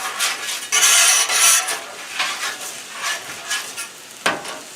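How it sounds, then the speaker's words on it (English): Red potatoes hit hot oil on a Blackstone griddle, bursts of loud hissing sizzle swelling and fading with scrapes and stirs, a sharp clack near the end, close and without talk. "we're going to put some red potatoes down"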